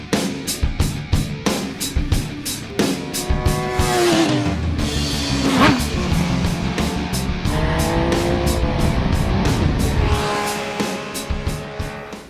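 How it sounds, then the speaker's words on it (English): 2013 middleweight sportbike with a 675cc inline-three engine ridden hard on a race track, loud and close, with sharp rapid upshifts, a sustained high-revving howl midway, then more quick shifts. "675cc inline 3, giving riders the mid-range torque of a twin and the hard-hitting top end of a 4-cylinder."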